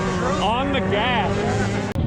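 An ATV engine revving hard during a WORCS race at Lake Havasu, a loud, steady mechanical roar with rising and falling pitch sweeps, cut off abruptly at the end.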